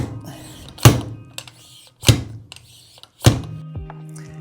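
A seal driver tool bangs a new oil seal down into the fork leg of a 2018 Suzuki GSX-R1000R motorcycle, giving three sharp metallic thunks about a second apart, close and loud, with no talking.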